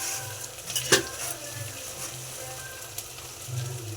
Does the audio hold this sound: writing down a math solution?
no